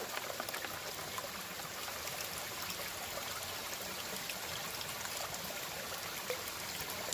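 Water rushes and trickles steadily as a gold pan is washed in a stream while panning for gold, a continuous close babble with no talk.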